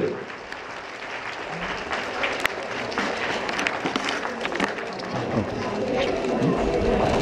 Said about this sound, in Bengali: সবাই একটু করতালি